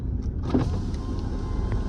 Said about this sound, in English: If you want, you can open the windows.